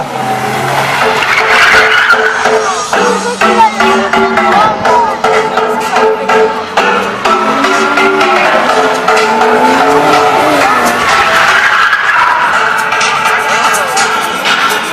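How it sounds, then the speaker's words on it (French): Monster trucks launching at full speed at a live show, loud roaring engines and revving with tire noise over a busy crowd, while an announcer talks over the action throughout. "on démarre les véhicules à toute vitesse"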